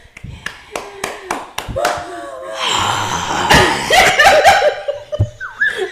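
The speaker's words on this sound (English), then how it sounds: "Clap, clap, clap" A handful of sharp hand claps ring out close by in a quick, uneven burst at a podcast recording, giving way to laughter, chuckles and talking voices.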